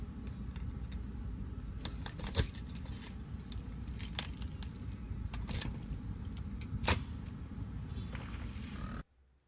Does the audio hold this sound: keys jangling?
yes